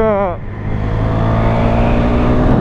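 Single-cylinder 2017 KTM Duke 390 motorcycle engine accelerating, a rising rev sweep followed by a loud, sustained buzzing engine note close to the rider, with a voice faintly present over it.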